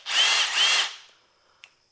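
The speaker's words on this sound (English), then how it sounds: "It has a drill mode, so just a regular drill." An SDS hammer drill in plain drill mode bores into concrete with two close, loud high-pitched whining bursts, followed by quiet and a couple of faint clicks.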